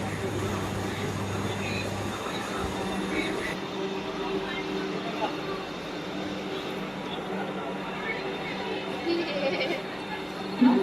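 A crowded passenger train rolls along with a continuous low rumble and rattle of the carriage, while people talk throughout close by.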